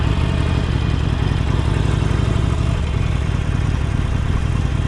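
A 2018 Harley-Davidson Sportster 48 Special XL1200XS with a steady, loud, rumbling low engine note and a constant pulsing throb, heard alone.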